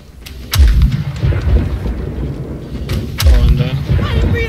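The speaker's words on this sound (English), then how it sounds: "Loading another heated shot." Heavy cannon fire in a naval battle video game, two loud booming shots about three seconds apart with rumbling tails, under excited voices calling out.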